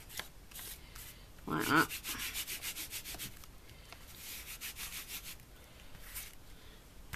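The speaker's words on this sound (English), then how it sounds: "you're going to need the clear one, the embossing ink. And what you do is you go all over that" Clear embossing ink rubbed over a craft plaque in repeated close, soft scrubbing strokes, with a louder burst early on and a brief spoken phrase.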